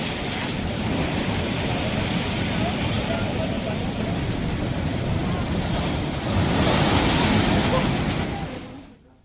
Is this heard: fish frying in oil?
no